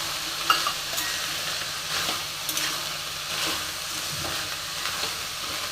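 Carrots and cauliflower sizzle steadily in hot oil for vegetable biryani, with a constant close frying hiss and a few soft scrapes and clacks of a spoon stirring the pan.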